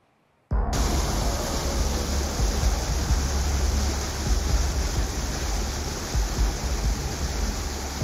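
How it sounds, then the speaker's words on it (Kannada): Floodwater pours through a breached canal embankment into a Karnataka village after heavy rain. The loud, broadband roar of rushing water starts abruptly after a moment of quiet and then holds steady and close. "ನಾಲೆಯ ಏರಿಯನ್ನೇ ಒಡೆದು ನೀರು ಗ್ರಾಮಕ್ಕೆಲ್ಲ ನುಗ್ಗಿದೆ"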